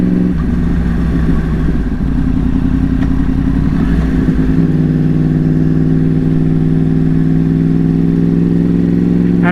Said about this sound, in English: This is the best sounding bike with that Toast exhaust